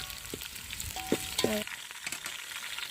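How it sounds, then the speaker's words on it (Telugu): Onions and green chillies frying in a pan, a steady hiss with a few stirring scrapes and clicks, close and moderately quiet. "ఆనియన్స్ అయితే ఫ్రై అయినప్పుడు ఇంక పచ్చిమిర్చి వేసుకుందాం వేసుకొని తీసుకుందాం"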